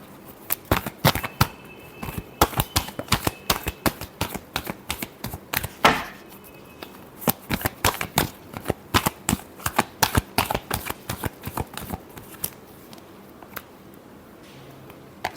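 Tarot cards are shuffled by hand in a final shuffle before a reading, making a close, rapid series of sharp riffling snaps and slaps with uneven rhythm and no talk.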